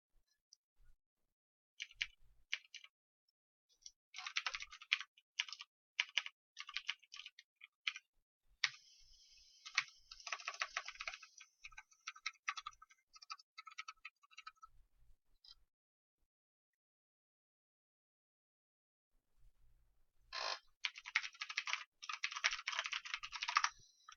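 Bursts of rapid typing on a computer keyboard while filling in form fields, quick clustered key clicks with pauses between runs, a long quiet gap, then another burst of fast typing near the end; no voices.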